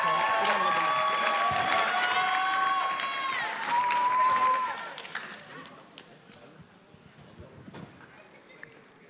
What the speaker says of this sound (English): Let's give them a big round of applause as they come up.